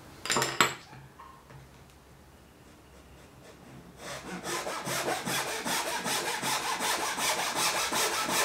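A Japanese handsaw cutting a thin wooden kumiko strip to length for an asa-no-ha shoji coaster, a few quiet strokes and a knock, then a sustained run of rapid, rasping push-pull strokes growing louder, close up.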